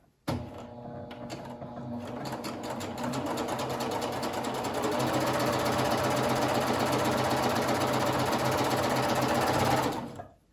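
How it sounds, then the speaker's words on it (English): Coverstitch sewing machine hemming a T-shirt, a close, rapid mechanical stitching hum that starts abruptly, builds slightly and runs steadily for about ten seconds before stopping. "I will take a couple of stitches, and it's moving forward."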